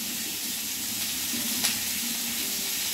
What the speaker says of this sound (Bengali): বড় সাইজের পেঁয়াজ আমি কুচি করে কেটে নিয়েছি। এবার এটা তেলে ভেজে নেব।